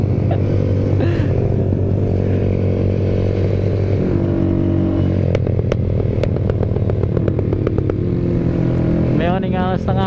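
A Yamaha Mio motorcycle engine, fitted with a 250cc setup, drones loud and close at part throttle with a rough, buzzing note, while people talk over it.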